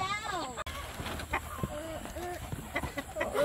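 Young pullets cluck and chirp in a farm coop, several birds calling in short rising and falling notes, close by, while people talk over them.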